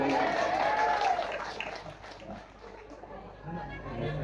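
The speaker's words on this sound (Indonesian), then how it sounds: "Tepuk tangannya mana?" A mosque congregation at a humorous sermon breaks into applause mixed with crowd voices and noise, loud at first, dipping in the middle, then swelling again.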